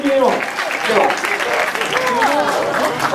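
A crowd claps and cheers at a dance event for a DJ, lively applause with whoops and excited shouting voices mixed throughout.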